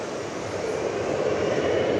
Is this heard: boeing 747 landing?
yes